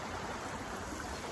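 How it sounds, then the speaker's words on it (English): Sippo Creek runs beside a park walking path with a steady, even broadband rush of flowing water. It is fairly quiet and continuous, with no voices. "you can start to hear the creek"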